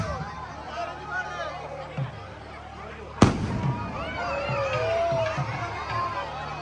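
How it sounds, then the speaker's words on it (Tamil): Fireworks bursting at a temple festival in Pungudutivu, with one loud, sharp bang near the middle standing out over a continuous crowd murmur and scattered distant pops. "அது தொடர்ந்து வான வேடிக்கைகளாக இருக்குது"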